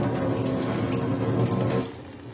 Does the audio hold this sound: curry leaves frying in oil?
no